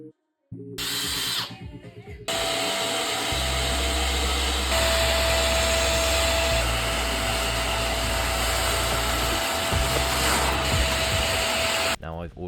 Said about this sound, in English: Going in with the brush tool really helps get that dirt loose from the carpet so the wet vac can pick it up.